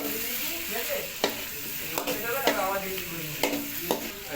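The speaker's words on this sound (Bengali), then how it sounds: "টমেটো দেওয়া হচ্ছে।" Tomatoes frying in a pan for an egg and potato curry, with a steady close sizzle and a few sharp stirring scrapes spaced roughly every second.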